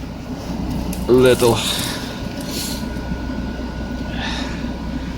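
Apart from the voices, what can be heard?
Citroen C5 engine idling while warming up after jump start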